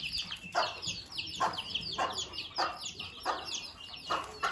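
Broody hen calling her chicks with a steady series of soft, rhythmic clucks, about eight short pulses spaced evenly, close by, with faint chick peeps and high background chirping.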